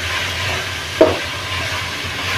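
Onion frying in a pan while being stirred, cooking for a mutton sukka dish: a steady close sizzle with one brief scrape of the spoon partway through.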